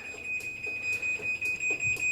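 MyQ smart garage door controller emitting a steady series of high electronic beeps, evenly spaced and fairly faint, with no talk.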